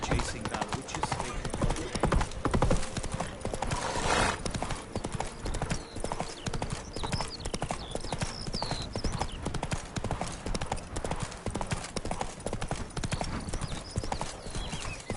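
In The Witcher video game, the horse Roach gallops with a rapid, rhythmic clip-clop of hooves that runs steadily throughout, loud and close, with brief vocal sounds over it.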